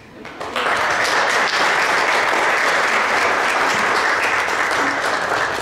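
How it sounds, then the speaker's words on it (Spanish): Audience at a cultural event in Tultepec, Mexico, breaks into applause after a brief quiet start, then holds a full, steady roar of many people clapping for the rest of the moment. "pues un aplauso para todos ustedes."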